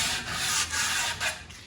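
Hand sanding on a new wooden window sash makes soft, close rasping strokes that swell and fade in a slow back-and-forth rhythm. The sanding is quiet and has no talking over it.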